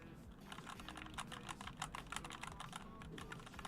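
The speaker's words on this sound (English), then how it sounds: "You can hear my typing now." Fast, steady clatter of keys on a computer keyboard, close and quiet, continuous with no talking.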